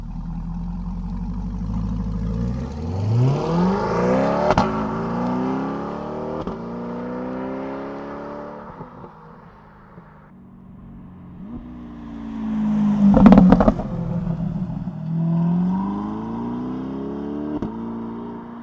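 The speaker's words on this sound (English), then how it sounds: "Now I'm just gonna do a couple drive-bys with different cars." A Chevrolet C8 Corvette Stingray and a Lamborghini Huracan pass by one after another, each engine rising in pitch as it approaches, roaring loudest up close, then fading away.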